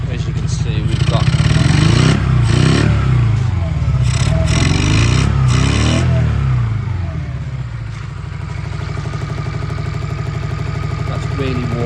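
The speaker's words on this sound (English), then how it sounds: "I'm just letting it continue to warm up just to see if we can get that other cylinder to kick in." A Honda CM125 motorcycle engine running one cylinder short while warming up, a loud close idle with repeated revs rising and falling, rough and clattery, continuous throughout.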